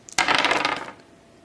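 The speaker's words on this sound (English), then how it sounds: "so they can now roll 6 dice" A handful of dice roll and clatter across a table in a Target Earth board game, one sharp close rattle that quickly dies away, with no talking.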